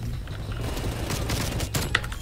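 FARA 83 rifle fire in Call of Duty rattles in a continuous rapid stream of shots, fairly close and steady, with a sharper crack near the end and no talk.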